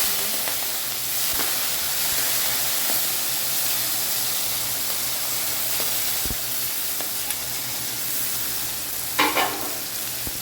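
Curry leaves, green chillies and onions fry in a pan with a constant, close, hissing sizzle, with an occasional sharper spatter or stirring scrape.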